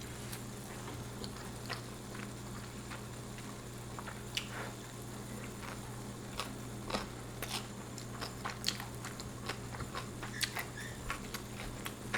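Uncooked raw ramyeon noodles crack and crunch between the teeth in a quiet close-up, a sequence of sharp bites and crisp chewing snaps over a low steady hum, with no talking.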